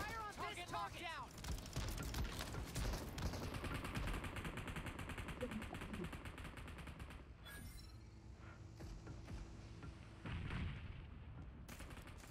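Gunfire fills a PUBG Mobile vehicle-to-vehicle fight in Evoground mode: dense rapid bursts and booms run throughout at a fairly low level, with game voice lines over them.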